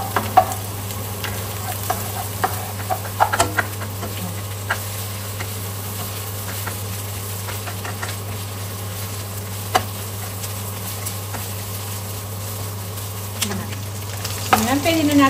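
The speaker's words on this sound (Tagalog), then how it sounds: "Sabay nang magigisa yung ating karne." Meat and garlic sautéing together in a hot pan, a constant close sizzle under a steady low hum, broken by scattered clicks and scrapes of stirring that grow busier toward the end.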